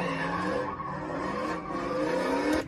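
A car drifting sideways gives a loud, continuous tire squeal over a revving engine, with the tires spinning out for under three seconds.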